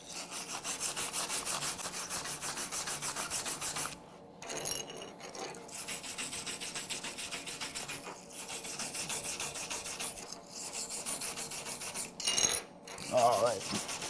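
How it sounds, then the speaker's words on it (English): A wire brush scrubs aluminum suspension parts before welding, making a steady, close, harsh rasping scrape in long continuous strokes broken by a few brief pauses, with no talking. "So I'm going to wire brush this until you get a dull aluminum, a dull finish on it."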